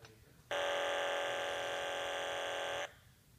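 A magneto timing buzzer sounds a steady, loud electronic buzz for about two seconds during magneto-to-engine timing on an aircraft engine, starting and stopping abruptly.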